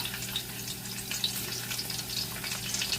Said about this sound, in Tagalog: At mag-uumpisa na tayong mag-saute ng mga gulay natin.